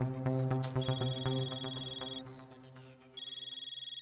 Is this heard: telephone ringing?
yes